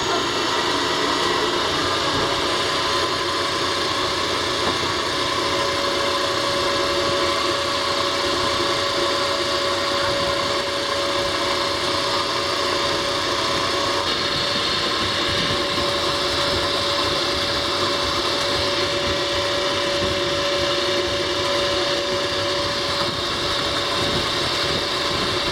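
A small boat motor on a Tiger Shark test runs continuously with a steady high whine and a buzzing drone, loud and close, holding an even pitch throughout with no pauses.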